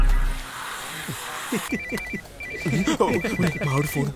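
A phone rings with repeated electronic trills while someone talks over it, the ringing starting partway through and continuing under his voice.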